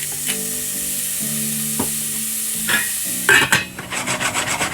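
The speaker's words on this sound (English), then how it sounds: "we're going to put them in, give them a little stir, get them coated in the beef fat" Potatoes sizzling as they fry in beef fat, with steady crackle over a low hum, then scraping stirs and rattling as they are turned and coated toward the end; no one speaks.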